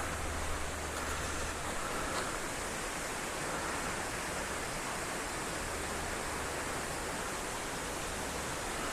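Water flowing toward a weir on Dartmoor, a dense continuous rushing roar, steady and fairly close throughout.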